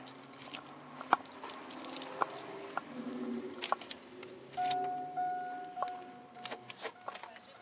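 Car keys jingle faintly in small metallic clicks and taps during a body-camera encounter at a car with a window that will not roll up, scattered over several seconds against quiet background noise.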